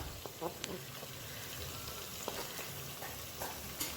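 Steady sizzling and crackling of tomatoes and other vegetables sautéing in a hot pan for rasam, with occasional faint clinks and stirring sounds, continuous and fairly quiet.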